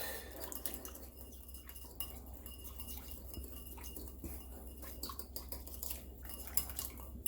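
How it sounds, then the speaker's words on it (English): A whisk beats a Greek salad dressing of vinegar and black pepper in a bowl, giving a steady, fairly quiet run of metallic clinks and scrapes throughout, with no talking. "So we're just going to give that a little whisk."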